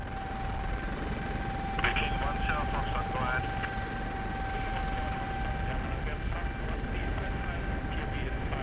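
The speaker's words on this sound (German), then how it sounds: "Der Helikopter fliegt ihn gleich zum nächsten Einsatz." A steady, droning helicopter engine hum with a constant whine, heard close as if from inside, over the North Sea, with faint muffled voices underneath.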